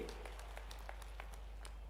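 Applause from a crowd at a public development-works inauguration ceremony in Jawad, a steady low wash of clapping with scattered sharper claps, fairly faint and distant across the whole stretch.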